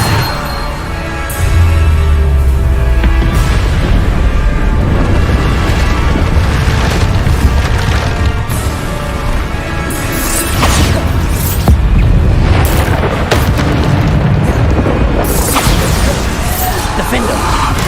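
Repeated Bombarda spell blasts in Hogwarts Legacy, heavy booming explosions and crashes one after another with dense game effects and music throughout, loud and continuous.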